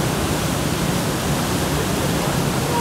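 Water rushing through Taunsa Barrage on the Indus River, a loud, steady roar of churning flow close by that holds without a break from start to end.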